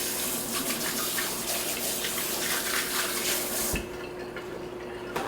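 Running tap water splashes steadily over soapy hands at a kitchen sink, a loud broadband hiss that stops abruptly near the end, leaving a quieter room tone with a faint drip.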